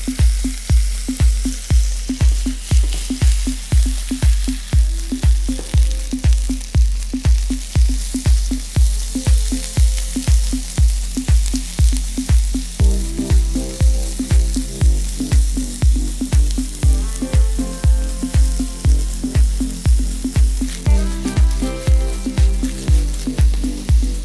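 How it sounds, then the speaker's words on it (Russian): Veal and eggplant frying together in hot oil in a pan, giving a steady close sizzle throughout, accompanied by a regular thumping rhythmic beat. "Начнем процесс обжарки. Обжаривать будем телятину и баклажаны вместе."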